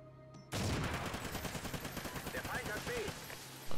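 Rapid gunfire from a Call of Duty Ghosts multiplayer match, a dense sustained stream of loud shots filling the whole stretch after a sudden start, with a voice briefly over the battle noise.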